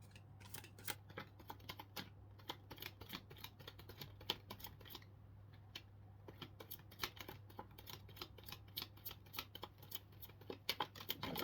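Tarot cards being shuffled by hand, a quiet steady run of soft riffling clicks and flicks close to the microphone over a low constant hum, with no talking.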